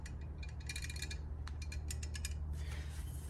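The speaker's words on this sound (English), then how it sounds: "You want to hear a nice little rattle in there." An AR-15 gas tube rattling inside the handguard of a 16-inch SPR upper in 6mm ARC, faint metallic clinks and light rattling in irregular bursts over a low background hum, with no talking.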